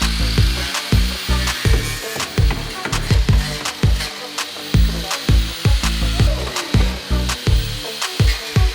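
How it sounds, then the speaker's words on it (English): A beaver drill bores out spot welds in the thick metal body structure of a Toyota Supra, producing grinding bursts in an uneven rhythm with short pauses, loud and close. "now we're drilling out all the spot welds on the structure parts."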